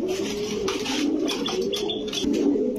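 Pigeons coo steadily at a pigeon farm, a continuous close chorus of low throaty coos from several birds overlapping, with brief rustles and faint chirps mixed in.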